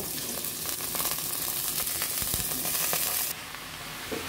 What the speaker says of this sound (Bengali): এর মাঝে এখন কেটে রাখা লাউ পুরো দিয়ে দিব